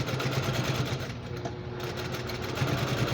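A sewing machine runs steadily, stitching a curvy line across the middle of a quilted fabric basket, its rapid mechanical whir continuous and close at moderate volume.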